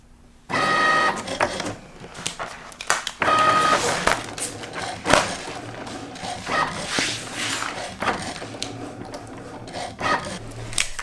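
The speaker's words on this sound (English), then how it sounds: "And I am using my Cricut Maker 3." A Cricut Maker 3 cutting machine cuts thick glitter puff heat-transfer vinyl, with bursts of whirring carriage motion and scraping, rasping blade noise that rise and fall irregularly throughout, close and fairly loud.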